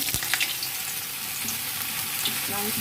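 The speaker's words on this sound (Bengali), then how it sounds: "এবার আমি আলুগুলো ভেজে নেবো" Potatoes fry in hot oil for a meat curry, a steady sizzle with some watery spatter and occasional stirring scrapes, moderately close, without talk.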